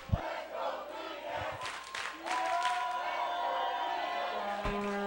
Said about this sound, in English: We can hear the crowd cheering, "Let's go Phoenix" and "Let's go Mephisto."